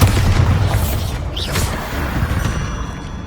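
A Bombarda spell explodes in Hogwarts Legacy, a heavy booming blast at the start that rumbles and decays with scattered crackling debris, loud and close, no talk.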